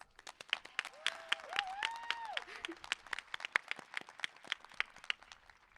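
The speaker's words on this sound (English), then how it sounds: "let's give ourselves a big round of applause" High school graduates clapping at a graduation ceremony, sparse distinct hand claps in an irregular rhythm, fairly faint and spread out, with a brief whistle or cheer early on.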